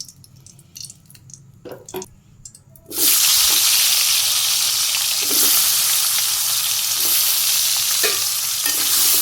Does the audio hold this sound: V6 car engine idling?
no